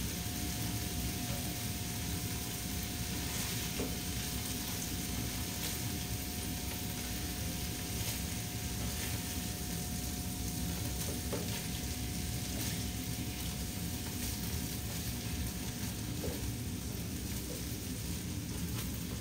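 Beef roulades searing on all sides in a hot pan, a steady dense sizzle and crackle that holds evenly throughout with no talking.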